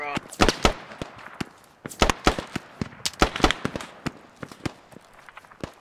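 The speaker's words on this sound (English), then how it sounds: "I shot him in the face" Rapid gunfire in the military shooter game Squad, with many sharp, loud cracks in quick irregular bursts and single shots at close range, with no pauses for talk.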